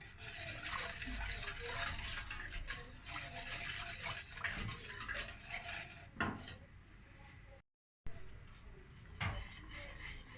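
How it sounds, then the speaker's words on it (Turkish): Wooden spoon scraping and rubbing steadily around a pot while sugar is stirred into a thickening milk pudding, a continuous close swishing with occasional light clinks against the metal. "Koyulana kadar karıştırmaya devam edelim."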